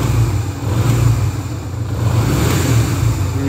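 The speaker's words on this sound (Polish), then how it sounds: "teraz sobie pracuje na wolnych ładnie" A 2001 Yamaha XV 125 Virago motorcycle engine idles smoothly and close by, a steady low rumbling putter with no other sounds.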